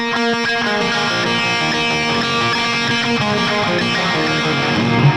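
Dense electric guitar playing with a delay effect left on, drenched in echoing repeats, notes smearing together into a loud, cluttered wash of sound throughout.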